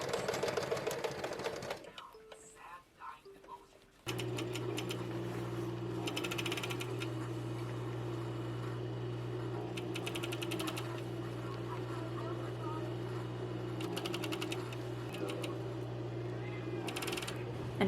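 A sewing machine stitches a corset dress in a long steady run, its motor hum and rapid needle clatter continuous and close, with a brief quieter stretch of light clicks before it starts.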